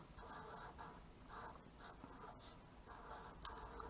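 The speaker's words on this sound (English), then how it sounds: "I'm going to write down the word sneaky" Pen writing a word on paper, close and quiet, with short scratchy strokes in repeated bursts and small pauses between them.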